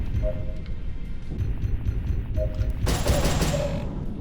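Spaceship weapons fire in the HunterNet StarFighter space combat game, heard as a dense rumbling barrage of blasts with brief tonal beeps over it, loud and continuous throughout.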